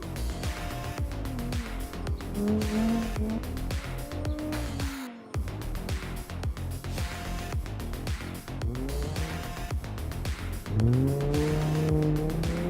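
Engine of a rally car in a racing video game, a Quadra Rally with an inline-six, droning loudly and continuously as it accelerates across the finish line, its pitch rising through the gears and climbing sharply near the end, with brief tire squeal.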